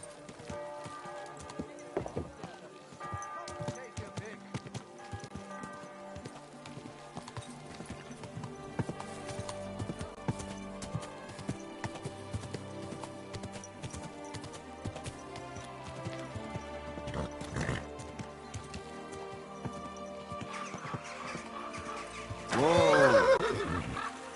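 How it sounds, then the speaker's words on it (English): Horse hooves clip-clop steadily through a medieval video game scene, Kingdom Come: Deliverance II, with a loud, close neigh near the end. "Easy, good horse."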